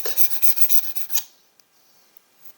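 The back of a dull chisel being flattened on a sharpening stone gives a gritty, rhythmic rasping rub of several quick strokes up close, then stops, leaving faint light ticks and near silence.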